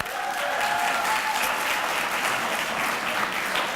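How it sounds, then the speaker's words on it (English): Audience applause after a group activity at an evening Maya Angelou arts event, a steady dense wash of clapping lasting the whole stretch with no voices over it. "Give yourselves a round of applause for that."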